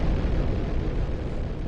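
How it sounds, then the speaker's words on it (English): A big explosion in the SNES video game Sparkster, a loud, continuous rumbling blast with dense low-end roar sustained for nearly two seconds, no talking over it. "Man, that was a big-ass explosion."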